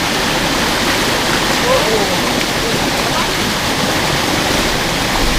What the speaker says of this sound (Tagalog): Ang mga motor, lakas ang labas ng tubig.